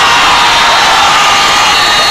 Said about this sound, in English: the crowd just goes bananas when Aliza Valdez scores